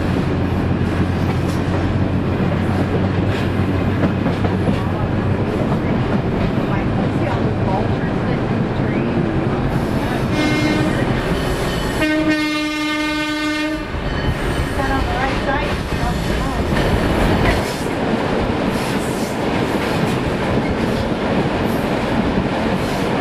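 A museum train runs along the old Chesapeake and Ohio main line in Indiana, with a steady loud rumble of cars and wheels throughout and a brief tonal horn or whistle blast midway.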